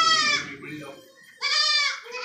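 Makki Cheeni female goat bleating at a goat market, two loud, close, wavering bleats separated by a short pause, with faint background murmur between them.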